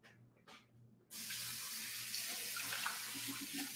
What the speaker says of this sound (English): I'm going to pour this out and I'm going to get a new water.